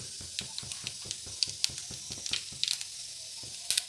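Spices crackle and spatter in hot oil in a pan, sharp irregular pops over a faint hiss, close and fairly loud.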